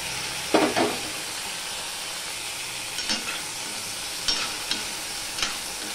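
Ginger and tomato fry in a pan of oil for a tilapia fish curry with taro, a steady close sizzle and hiss broken by a few scraping stirs of a spoon.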